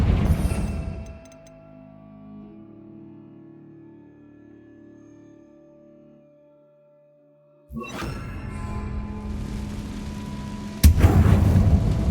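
A Confringo blasting spell in a Harry Potter video game, a sharp burst followed by a fading magical ringing, then later a second impact and a heavy explosive crack near the end.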